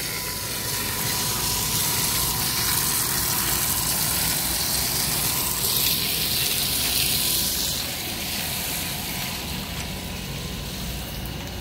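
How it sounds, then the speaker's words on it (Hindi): A high-pressure water jet washes an expansion joint on an old bridge after breaking work, giving a continuous loud hiss and spray roar with a steady engine-like drone underneath. "पानी से इसको क्लीन धोया जाता है।"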